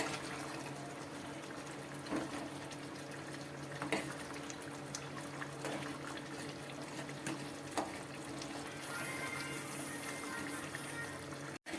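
Water poured into thickened vegan curry gravy in a cooking pot makes a faint, continuous watery rush with small splashy accents, steady for the whole stretch.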